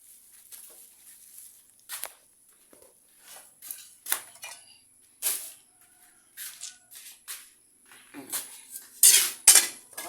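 Metal pots and utensils clank and scrape as chicken curry is poured from one cooking pot into another, with irregular clinks and knocks building to louder clatter near the end.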